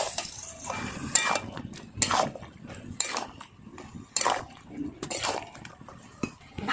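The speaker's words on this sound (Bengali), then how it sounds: "দিয়ে এবার ভালো করে নাড়াচাড়া করে নেব" Fried crabs and potatoes stirred together in a pot for a bottle-gourd crab curry make a run of clanks and metallic scrapes, spaced about once a second, up close.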